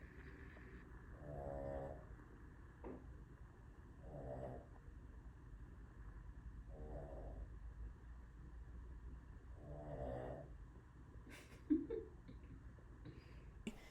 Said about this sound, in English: She just snoring so loudly.